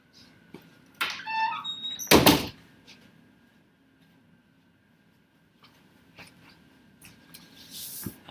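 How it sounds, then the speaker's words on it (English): A bathroom door is handled and shut with a loud thud partway through, preceded by rattling and squeaks; quiet room afterward with a few faint clicks. "I'm going to go close the bathroom door"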